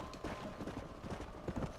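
Horse hooves clopping in the video game Red Dead Redemption, a quiet, steady, rhythmic clip-clop of a horse moving at an easy pace.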